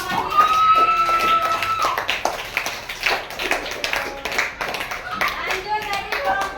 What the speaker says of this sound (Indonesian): Kita beri tepuk tangan kelompok mandiri.